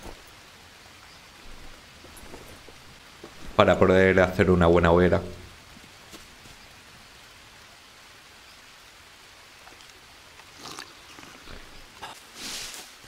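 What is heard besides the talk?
rain falling in the video game Green Hell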